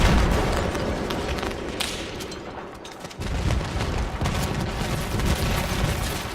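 Dense, continuous battlefield gunfire and booming explosions in Battlefield 3, with rifle shots, grenade blasts and artillery layered loudly throughout, a brief dip before the barrage resumes at full intensity.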